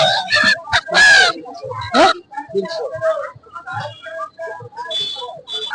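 Chickens cluck and call at a poultry market, close and fairly loud, in short bursts between and under steady bargaining voices.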